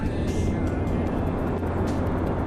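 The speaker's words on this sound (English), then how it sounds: "then I'm going to throttle up." A rocket engine in a spaceflight game throttles up into a dense, continuous roar that holds loud and steady throughout, with no talking over it.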